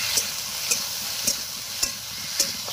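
Onion and garlic fry in a pan with a constant sizzle, while a utensil stirs them in sharp, evenly spaced scrapes roughly every half second.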